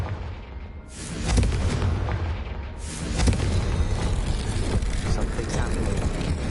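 A Confringo fire spell bursts in the video game Hogwarts Legacy: loud booming blasts with a crackling rumble, a second surge following about two seconds after the first, set against a busy game soundscape.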